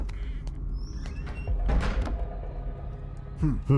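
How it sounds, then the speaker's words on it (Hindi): A door swings and thuds shut in an indoor room, one dull knock in the middle of the scene, with people speaking around it. "दरवाजा बंद कर देना।"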